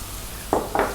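Cooked beans with salt and black pepper tipped into a hot pan with garlic: two quick sizzling hisses close by over a steady background hum, brief and bright.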